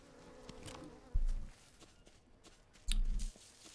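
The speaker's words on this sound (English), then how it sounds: "I can hear the wasps." Wasps buzzing in the jungle survival video game Green Hell, a faint insect drone with two short, louder bursts of rustling or footsteps breaking through.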